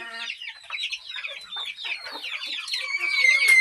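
Several free-range desi chickens on a farm field cluck and chatter continuously nearby, overlapping calls rising toward a higher, more excited pitch at the end.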